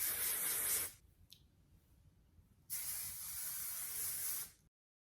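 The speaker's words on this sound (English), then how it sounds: "I'm gonna go in with R+Co's Moon Landing Anti-Humidity Spray" Two bursts of R+Co Moon Landing anti-humidity hair spray hiss from an aerosol can, a short blast, a pause with a faint brief puff, then a longer steady spray that cuts off abruptly.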